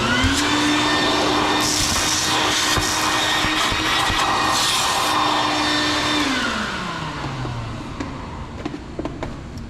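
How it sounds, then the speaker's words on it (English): A shop vac runs loud and steady while cleaning out a Mahlkonig GBW coffee grinder, its drone holding constant before the pitch sags and the motor winds down near the end. "I'm just going to vacuum this out using the handy shop vac that we've got here"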